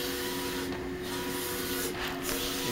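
HP DesignJet 500ps large-format printer laying down ink, a steady close mechanical whir with faint tonal hum and two brief swells of brighter hiss as the print carriage passes.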